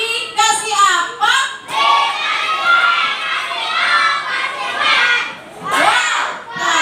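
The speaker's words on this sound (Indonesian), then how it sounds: "yuk sekarang kita kasih tepuk, dikasih wow." Classroom of third-grade schoolchildren shouting an excited chorus in a loud, sustained burst, voices rising and falling together with a short pause partway through and a final swell at the end.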